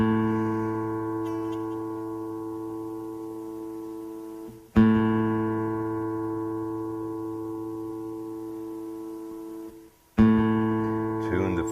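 Classical guitar's open fifth string, A, plucked as a tuning reference: three long sustained single notes, each struck cleanly and left ringing and slowly decaying, moderately loud with nothing else around them.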